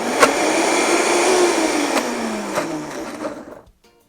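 A blender whirs loudly and steadily as it grinds peanuts into peanut butter. The motor pitch slowly drops as the thick mixture loads it, then the sound cuts off near the end, with no talking.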